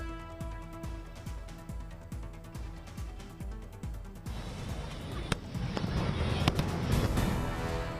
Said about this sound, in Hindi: दीपोत्सव समारोह के दौरान की गई शानदार आतिशबाजी